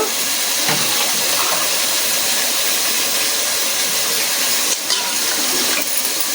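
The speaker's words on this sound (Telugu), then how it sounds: "మనం పైన ఇంకా వాటర్ పోసేసుకోవాలి." A steady, loud stream of water pours into a pot over rice for coconut pulao, a continuous splashing hiss that runs almost unbroken before cutting off.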